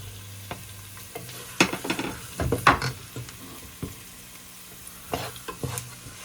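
Beans and carrots stir-fry in a pan, a continuous frying sizzle with bursts of clattering, scraping stirs in the middle and near the end, heard up close without talk.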